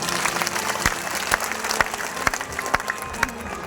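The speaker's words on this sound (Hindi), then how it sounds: "एक बार जोरदार तालियां।" An audience at a Hindu katha recitation breaks into loud, vigorous applause, individual sharp claps popping out of a thick, continuous roar of clapping that holds strong from start to finish.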